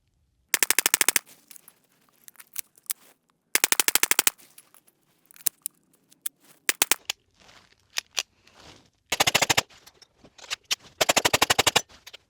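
Suppressed gunfire through a HuxWrx Flow 22Ti titanium suppressor: several rapid strings of sharp, close shots, separated by scattered single pops and quieter handling noise.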